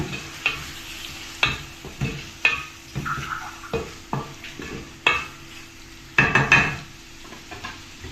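Tomato pieces are stirred into a sizzling frying mixture in a pan for uppu chapa, with a spoon scraping in a steady rhythm of about one stroke per second over a soft continuous sizzle.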